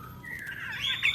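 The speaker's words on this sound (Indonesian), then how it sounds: "Resiskin, burungnya kecil, warna oranye dan hitam" A small orange-and-black red siskin gives a brief, bright rising twitter, a single thin whistled phrase close by over quiet background.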